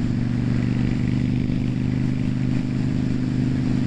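A motorcycle engine drones steadily and loudly on an open road, with a continuous low rumble and wind noise and no break in the sound.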